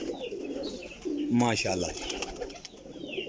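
A Salara Teddy pigeon coos in a short, close burst of low rolling notes near the middle, while someone speaks briefly and other birds chatter faintly in the background.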